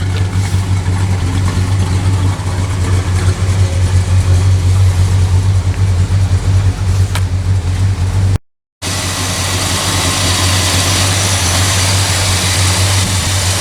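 A 1964 Chrysler 300K convertible idles with a loud, steady low engine rumble that runs continuously apart from a brief cut, and no one speaks.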